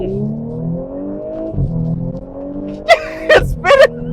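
A 2018 B9 Audi S5 Sportback launches hard in sport mode, its engine revving and climbing steadily from inside the cabin, ending in a few short bursts of tire squeal as the wheels spin.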